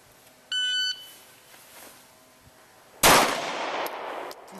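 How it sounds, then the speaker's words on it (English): A shot timer gives a short electronic beep, and a few seconds later a single loud handgun shot cracks out and rings briefly, on a defensive handgun training range with no talking. "then you wait for the beep, beep"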